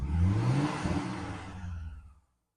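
A BMW N62 4.8-litre V8 fires up and runs, a low rumbling engine note with a rising whir that settles, heard close and alone before cutting off abruptly.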